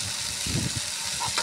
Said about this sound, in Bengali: এবার আমি এই শাকটা দিয়ে দেবো